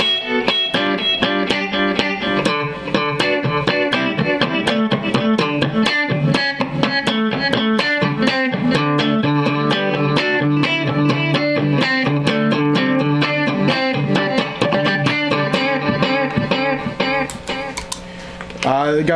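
An electric guitar runs through an effects unit on a thin ice preset with heavy tape echo, playing steady, loud picked lines with repeating echoed notes throughout.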